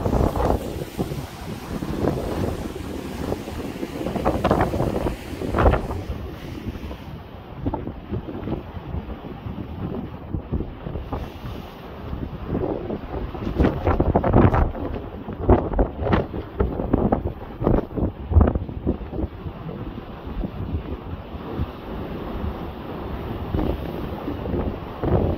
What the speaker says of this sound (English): Yo, look at that wave coming!